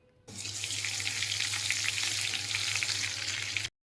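Garlic paste and whole cloves, cinnamon, cardamom and bay leaves fry in hot oil for a khichuri, a dense, even sizzle that starts abruptly, holds steady at close range over a low hum, then cuts off.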